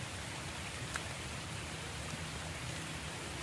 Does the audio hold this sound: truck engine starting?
no